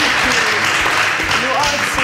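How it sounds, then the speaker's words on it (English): Audience applause at a stage show in Lokoja, steady and fairly loud for about two seconds, mixed with a voice and some tonal sounds in the background. "Another round of applause for she us."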